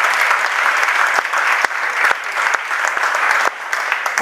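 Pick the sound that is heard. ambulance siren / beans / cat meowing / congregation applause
congregation applause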